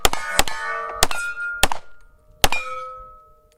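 Five shots from a hard-chrome Llama Max-1 1911 pistol in .38 Super, sharp close reports with ringing metallic decay, four fired quickly and a fifth after a short pause.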